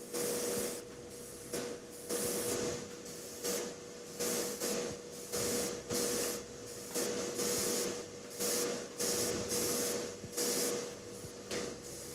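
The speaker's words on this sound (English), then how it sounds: "an airbrush like a super convenient tool to use just to get like a lot of paint on your model quickly" An airbrush sprays paint onto a model miniature in short, repeated hissing bursts about once a second, with brief gaps between them, fairly close and steady, and no voices.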